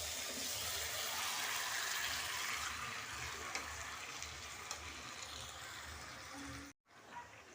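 Mutton sautéing in spiced oil in a pot, a broad continuous sizzle and bubbling hiss with occasional stirring, held steady until a brief break near the end.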